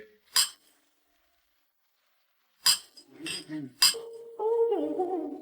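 Sharp glassy clinks ring out, one early and two more later, amid a man's speech and brief music-like tones near the end.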